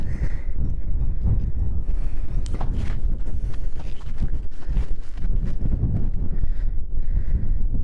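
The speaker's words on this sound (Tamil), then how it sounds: "நல்லா காற்றடிக்குது" Steady, broadband wind blows hard against the microphone at Orathupalayam Dam, roaring and buffeting continuously throughout, with no voices.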